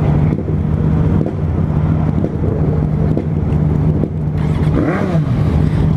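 A Suzuki Bandit 650cc motorcycle engine turns over and settles into a steady, close idle with a low hum, then revs up briefly near the end, all without any talk.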